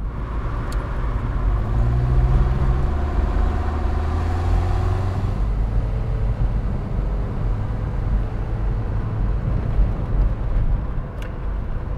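Saab 900 Turbo 16 S with a 3-speed automatic gearbox, heard from the cabin while driving: a steady low engine drone with road rumble, rising in pitch and then settling as the car pulls along, with no talk.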